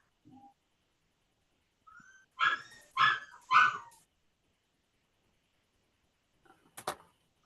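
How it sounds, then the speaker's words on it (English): A dog barks three times in close succession at moderate distance, then gives one short yip a few seconds later, with quiet pauses between. "Oh, it's just a dog."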